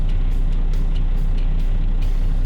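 Trucks idle in a traffic jam, with a loud, steady low engine rumble close by and faint higher hisses now and then.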